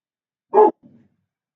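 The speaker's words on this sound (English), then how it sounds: "Excuse me on the dog's behalf." A dog gives one loud bark up close, followed by a softer, shorter yip or growl, with quiet before and after.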